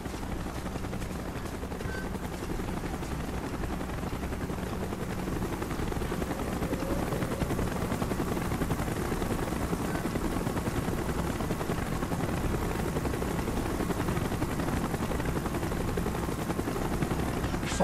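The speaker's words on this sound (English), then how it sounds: "Chopper's inbound. Move it." A helicopter approaches in the Call of Duty: Black Ops video game, its steady thudding rotor drone filling the scene at a constant loud level for the whole stretch, with faint battle noise underneath.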